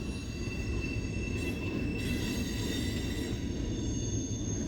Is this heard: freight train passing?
yes